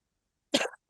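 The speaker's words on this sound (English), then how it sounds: "I can't stop coughing." One short, harsh cough bursts out close by after a stretch of silence.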